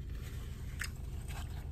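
Someone chews soft steak up close during an eating session, with a few quiet bites and moist chewing over a steady low background hum.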